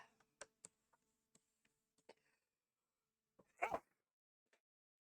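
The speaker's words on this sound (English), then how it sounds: "I've been sneezing all day and it's a pain in the ass." One short, sharp human sneeze bursts out in an otherwise quiet room, preceded by a few faint scattered ticks and clicks.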